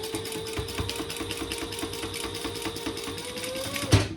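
A sewing machine runs steadily, stitching a retro-style sling bag in one continuous close hum with a rapid needle rhythm, stopping abruptly with a small clunk at the end.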